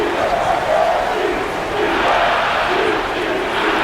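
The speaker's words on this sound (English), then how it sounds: "this crowd is going nuts here" Arena crowd roars and cheers after a dunk in a college basketball video game between Maryland and Iowa, a loud continuous wash of noise with no distinct voices.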